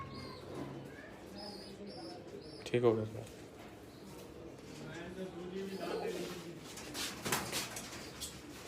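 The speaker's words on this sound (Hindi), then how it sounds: "ये बड़े हाई प्रवास कबूतर है।" High-flying pigeons in a Bahawalpur breeding loft coo softly on and off, close by, while someone talks over them.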